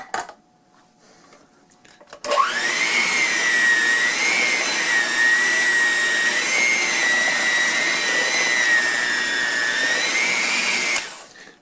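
An electric mixer starts abruptly and runs at a steady high whine through Sprinkles cupcake batter, close and loud, holding for about nine seconds before cutting off, with faint handling noise beforehand and no talk.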